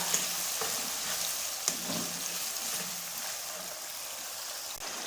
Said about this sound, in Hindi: तकरीबन 6 से 7 मिनट हमने चिकन को फ्राई कर लेना है।